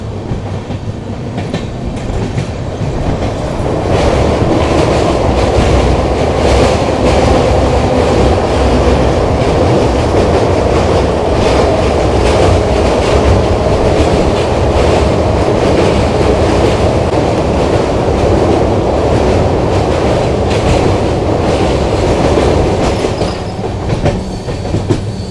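The 13189 Sealdah–Balurghat Express from Kolkata rumbles loudly and steadily along the rails, with rhythmic clickety-clack from the wheels and carriages throughout and no voices.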